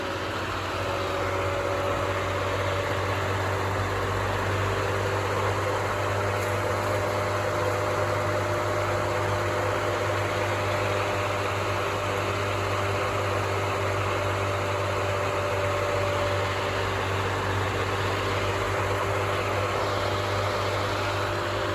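An LG washing machine spins with its door removed, producing a loud, steady whirring drone with a low hum and broadband rush that holds constant throughout, close and uninterrupted.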